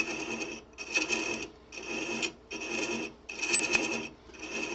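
A woodturning scraper is held against spinning wood to hand-chase threads, producing a steady raspy scraping in five repeated strokes separated by short gaps, close and moderately loud.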